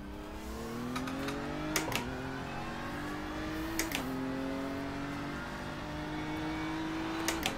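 A race car in the iRacing video game drives a quick lap, its engine note climbing steadily through the gears, with brief sharp shift or click sounds every couple of seconds and no talk.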